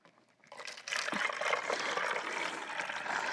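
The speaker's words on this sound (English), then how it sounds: "we're going to use this funnel for our water. We're going to fill it the same amount like I did with the vinegar." Hot tap water pours through a funnel in a steady, close rushing stream that begins abruptly and continues without a break, with no talk over it.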